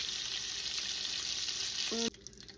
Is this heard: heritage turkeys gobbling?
no